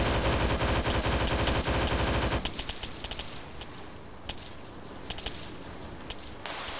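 Heavy gunfire in Arma 3: a dense, loud burst of automatic fire for a couple of seconds, then scattered distant single shots and short volleys echoing across open terrain.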